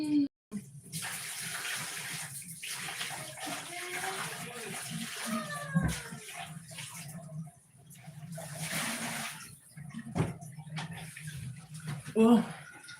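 Water pours from a tap into a bucket with a splashing, gurgling rush that stops briefly and then resumes, while a voice talks or sings over it in places.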